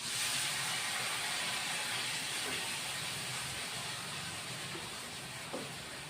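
Tomato paste for a rui fish kalia hits hot oil and sizzles in a steady, dense, loud hiss that carries on evenly from close by, with no talk.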